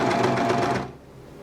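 A Bernette B48 serger runs a 4-thread overlock stitch, giving a close, rapid mechanical whirr for under a second before stopping abruptly.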